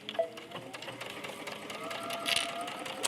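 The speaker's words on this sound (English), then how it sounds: "you're just going to use a straight stitch and sew around the fabric, making sure that you are sewing both layers of fabric" Sewing machine running a straight stitch through two layers of fabric for a folding fabric basket, a steady continuous mechanical whir heard close and alone.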